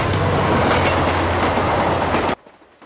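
A train runs on railway tracks with a loud, dense rumble and rhythmic clatter close by, then cuts off abruptly near the end, leaving quiet; no one speaks.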